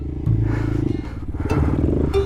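A Honda Grom motorcycle crashes on snow, with a loud engine drone and a scraping, clattering tumble over about two seconds, close to the recording point.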